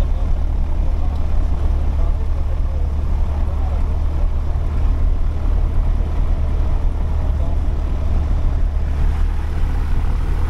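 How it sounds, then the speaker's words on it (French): Engines of the light aircraft F-GCAR run with a steady, loud low-frequency drone and rumble, heard from inside without a break for the whole stretch. "les moteurs ayant été mis en route"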